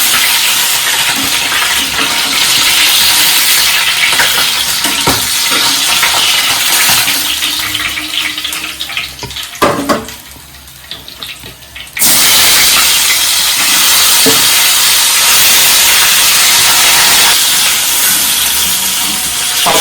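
Pieces of tilapia fish deep-frying in hot oil make a loud, steady, hissing sizzle that dips briefly quieter partway through, then returns at full strength.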